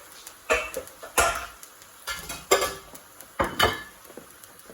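Green creamy pasta stirred in a pan with a utensil, giving several bursts of scraping and clinking against the metal at an irregular pace, fairly close, with quiet gaps between strokes and no talk.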